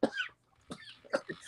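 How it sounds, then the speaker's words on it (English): A person coughs after laughing hard, a burst of three or four rough, close coughs spaced roughly half a second apart, with no talk. "I laughed so hard it made me cough"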